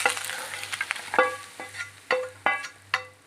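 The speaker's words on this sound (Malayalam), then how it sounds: "അപ്പോൾ നമ്മുടെ മുട്ട ഏതാണ്ട് ഫ്രൈ ആയി." Egg frying for an okra and egg thoran, stirred in a pan with repeated scraping strokes over a crackling sizzle, close up and without any talking.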